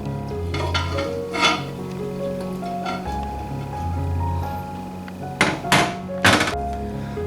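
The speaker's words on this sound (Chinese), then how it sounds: "现在南瓜、胡萝卜都蒸软了，然后我们放到搅拌机里面" Steamed soft pumpkin and carrot go into a blender for pumpkin apple soup, with hard clinks and thunks of a spoon and container ringing out in separate bursts, louder near the end.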